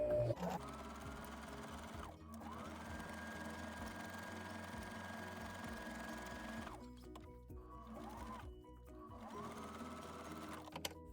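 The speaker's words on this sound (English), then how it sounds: "So next we're going to sew that curved section." A sewing machine stitches a curved fabric edge on a changing pad cover, its motor whirring steadily in long runs broken by brief pauses, close and moderately quiet, with no speech.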